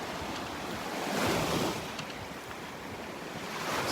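Ocean surf washes onto a beach at Vanderbilt, North Naples, Florida, a steady broadband roar with a gentle swell of breaking waves, under wind buffeting the microphone, with no voices.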